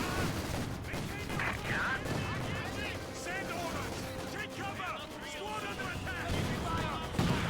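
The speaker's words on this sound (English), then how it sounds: "Mortar half-track is trying to get the job done here." Company of Heroes 2 battle with a mortar half-track firing amid scattered gunfire and artillery thumps, a dense continuous wall of combat noise with a commentator talking over it.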